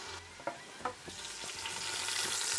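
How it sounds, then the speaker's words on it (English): Lamb searing in an Instant Pot on the saute setting, a steady close sizzle that builds gradually, with a few sharp clicks and pops from the meat being shifted early on. "I have my Instant Pot set to the saute setting. Gonna go for about 3 to 4 minutes on each side."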